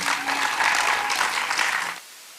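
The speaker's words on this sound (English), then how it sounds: "A big applause for all of you." An audience at an innovation pitch event applauds entrepreneurs, with a short burst of dense, even clapping that cuts off sharply.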